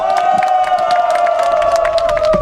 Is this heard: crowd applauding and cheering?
yes